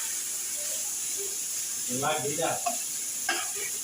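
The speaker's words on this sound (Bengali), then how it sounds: "ঘি দিয়ে ভেজে নিচ্ছি গাজর" Carrots frying in ghee give off a steady, even sizzle throughout, with a brief muffled voice rising over it midway.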